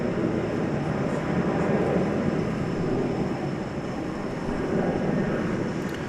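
An airliner lands at DFW Airport, its engines a steady broad rumble at moderate distance that holds evenly throughout.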